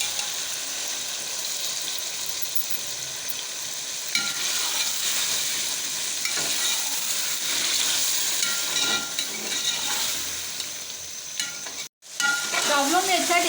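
Masala frying in a pan for aloo matar pulao with half a cup of yogurt just added, stirred steadily with a continuous sizzle and hiss, scraping strokes coming through, one brief dropout near the end, no talking.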